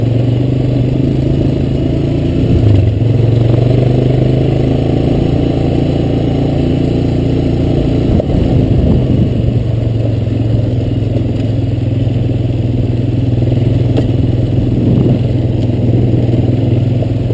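A Honda Recon ES ATV rides along a grassy path, its engine droning steadily and close throughout, with faint clattering and bumps from the terrain over the constant hum.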